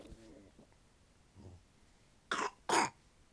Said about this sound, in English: Where's that cough coming from, baby girl?